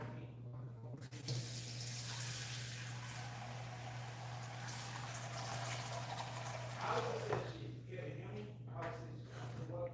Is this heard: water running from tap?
yes